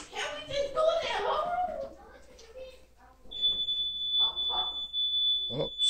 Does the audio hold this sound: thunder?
no